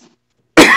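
A single sharp cough bursts in loud and close after a near-silent pause, a rough, breathy burst that rings on briefly.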